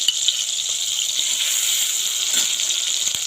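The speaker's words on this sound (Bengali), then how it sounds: "টমেটোর কিছুটা দেখো ভাজা ভাজা হয়ে গেছে" Tomatoes fry in a pan with a bright, continuous sizzle, and ginger goes in as the hiss swells briefly, heard up close with no speech.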